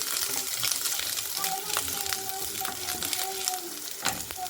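Ginger sizzles steadily in hot oil in a pan as it browns for rava pongal, a constant crackling fry with occasional stirring clinks, heard close up alongside a voice.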